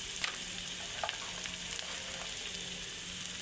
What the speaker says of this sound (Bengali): এবার আদা রসুনের পেস্ট দিয়ে দেব, দিয়ে একটু ভালো করে ভেজে নেব।